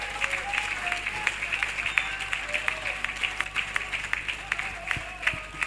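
A live stage audience at a comedy show applauds, fairly faint, crisp clapping with sharp individual claps standing out, continuing steadily throughout.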